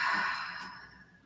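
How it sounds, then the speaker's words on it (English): One long, deep exhale during yoga, close and breathy, trailing off quietly over about a second. "Nice deep breath in. Exhale it all the way out."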